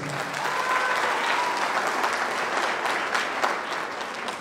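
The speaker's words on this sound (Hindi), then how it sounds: "मैं मिस्टर जयदेव विद्यानंद के लिए मैं जोरदार तालियां।" Audience applause at a gathering at Jalsa Garden, Ghazipur, for Mr Jaydev Vidyanand: dense, sustained clapping from many hands, loud and steady throughout with a few sharper claps near the end.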